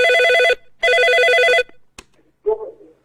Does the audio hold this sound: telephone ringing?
yes